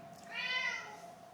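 A house cat gives a single short meow, close and fairly soft, rising and fading within about half a second against a quiet room hum.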